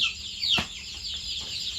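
Chicks and ducklings hatched in an egg incubator give faint, high, thin peeps and chirps, a few brief calls over a quiet background hiss.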